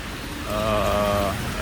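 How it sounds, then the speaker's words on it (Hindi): Heavy rain falls steadily in Guangzhou, a dense even hiss close by that swells briefly in the middle, with no talking. "बारिश स्टिल हो रही है और रुकी नहीं है। वैसे ये रिस्क बहुत बड़ा है जो मैं इतनी तेज़ बारिश में निकल कर आ गया हूँ"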